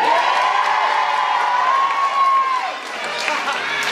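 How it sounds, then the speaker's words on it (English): Children in a school assembly audience cheer and whoop loudly for a contestant, a dense, continuous crowd roar with scattered claps that eases slightly near the end. "Okay, we'll have a big cheer there."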